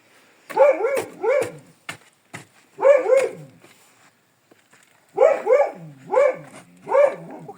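A dog barks in several short bursts of two or three sharp, fairly close barks, with brief pauses between the groups.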